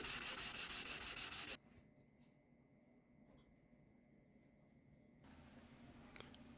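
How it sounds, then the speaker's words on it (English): A guitar fingerboard is sanded to 400 grit during a laminate headstock repair and refret, giving loud, close, rhythmic rasping strokes for about a second and a half before the sound drops to quiet room tone. "I like to sand the fingerboard to about 400 grit."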